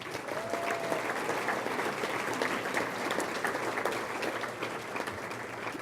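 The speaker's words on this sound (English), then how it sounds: "Let's give them a round of applause." An awards-ceremony audience claps steadily for several seconds, a dense even wash of many hands in a large room, with faint voices mixed in.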